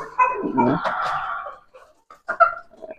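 Several backyard chickens are kept in a small home space. Close, loud clucking and squawking come in a burst, followed by a short pause and then a few more clucks.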